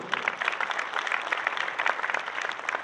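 Audience applause fills a hall at the inauguration of a dairy expo, a steady dense patter of many hands clapping without pause, moderately loud and even throughout.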